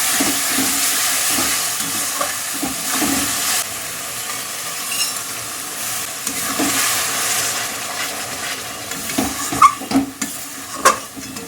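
Ginger, cumin and tomato paste fry in a pan with a steady sizzle. Repeated scraping stir strokes run through it, growing more pronounced toward the end.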